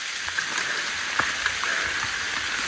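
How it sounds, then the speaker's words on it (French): Heavy rain on a hiking trail in Corsica, an even hiss of falling water with a few sharper drops tapping nearby, fairly loud and unbroken, nobody speaking. "Oh, il pleut, c'est n'importe quoi."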